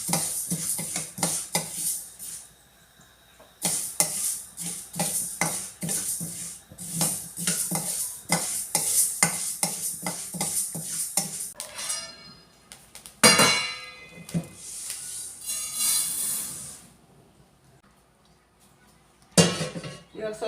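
Fenugreek seeds, about five to six spoons, roasting in a pan for homemade hair oil, with repeated clinks and scrapes of a spoon against the metal and a faint sizzle, close and busy, pausing briefly near the end.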